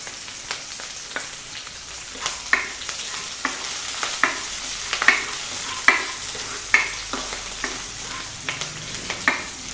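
Curry leaves, green chilli, garlic and ginger sizzle steadily in hot oil, with a spatula scraping and stirring the pan in a regular rhythm of sharp clicks over the continuous hiss.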